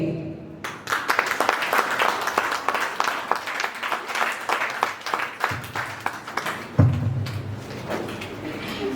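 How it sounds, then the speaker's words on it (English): An audience at a school summer workshop recital and awarding ceremony applauds a student's speech with sustained, fairly close clapping that starts abruptly, thins toward the end and is followed by a brief thud. "Let's give him once again a big round of applause."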